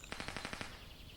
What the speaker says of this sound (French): Je viens d'entendre des coups de feu au loin.